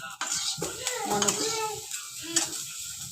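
Raisins sizzle and crackle as they roast in ghee in a pan, a continuous close frying hiss with stirring scrapes, while someone speaks briefly over it.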